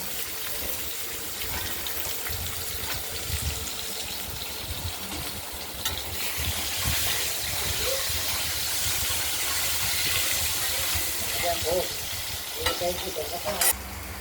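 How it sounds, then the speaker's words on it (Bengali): Potatoes fry with spices in a pan, a steady loud sizzle with stirring scrapes throughout, no one speaking. "আলুগুলোকে আমরা ফোড়নের সঙ্গে ভেজে নেব।"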